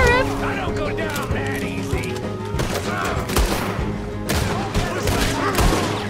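Gunfire in Red Dead Redemption, repeated sharp shots and booming blasts scattered through a chaotic fight, loud and close, mixed with shouting voices.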